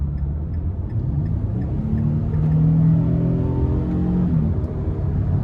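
A 2024 Nissan Frontier PRO-4X with its 3.8 V6 pulls under throttle, a steady low engine drone that rises in pitch as it accelerates, heard from inside the cab with no talking.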